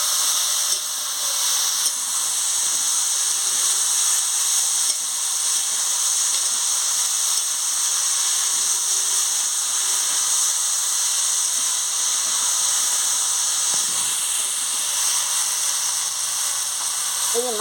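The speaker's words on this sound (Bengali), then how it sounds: "আমি এবারে ঢাকনাটা খুলে নিচ্ছি, দিয়ে ভালো করে আনাজগুলোকে ভেজে নিচ্ছি।" Vegetables fry in an uncovered pan with a steady, fairly loud hiss and sizzle that barely changes from start to finish, broken only by faint stirring sounds.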